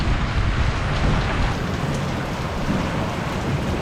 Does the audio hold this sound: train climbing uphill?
no